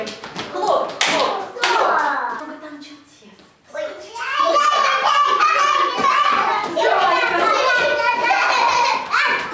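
Young children clap their hands in quick bursts during a lively group activity, mixed with chattering kids' voices and an adult speaking.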